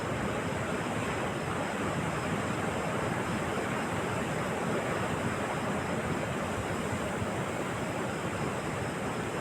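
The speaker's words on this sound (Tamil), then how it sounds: "தெரியுதுங்களா கடல் வந்துருச்சு பாங்க பக்கத்தில்" Sea waves wash steadily onto Varkala beach in Kerala, a continuous broad roar of surf with some wind on the microphone, loud and unbroken throughout with no talking.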